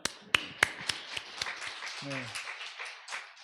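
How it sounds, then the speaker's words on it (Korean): A church congregation claps during a Sunday service, a burst of scattered, sharp hand claps that start loud and close and thin out over a few seconds, while someone speaks briefly over them. "좀 칭찬을 아끼지 않고 박수 한번."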